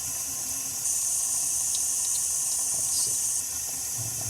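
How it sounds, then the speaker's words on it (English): Extremely hot water rushing steadily through a hookah hose during cleaning, a constant close hissing flow with a brighter splashing band in the middle. "I just run extremely hot water right through the hose"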